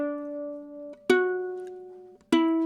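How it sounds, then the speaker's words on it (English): Fiddle playing a broken-thirds scale: sustained, clear bowed notes stepping in sequence, with crisp note changes and close, solo tone without talk. "You can also play broken thirds."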